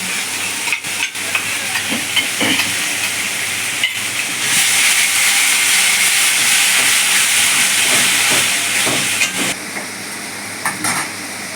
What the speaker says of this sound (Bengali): মশলা তেল ছেড়ে গেছে ওর মধ্যে দিয়ে দিলাম কাজু কিশমিশ বাটা আর